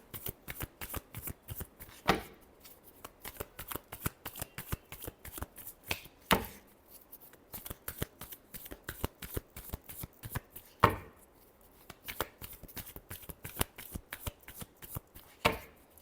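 Tarot cards are shuffled by hand in close, quiet, rapid bursts of riffling and slapping, repeating throughout with a few sharper snaps.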